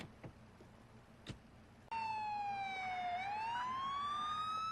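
A few faint clicks, then a loud wailing police car siren starts abruptly and sweeps down and back up in pitch, close and continuous.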